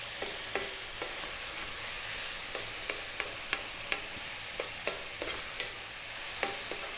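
Pork for pork fried rice stir-fried in a pan at full power: a steady broad sizzle with scattered sharp clicks and scrapes of the utensil tossing the meat, close and continuous, no talking.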